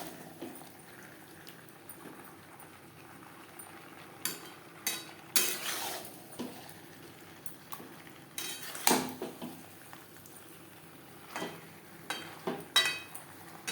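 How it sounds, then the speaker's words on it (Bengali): Vegetables and spices for a vegetarian potato dish are stirred in a pan over high to medium flame, with scattered metallic spoon clinks and scrapes against a quiet low background, no voices. "হাই টু মিডিয়াম ফ্লেমে মশলার সাথে সবজি আরও চার পাঁচ মিনিট নাড়াচাড়া করে নেব"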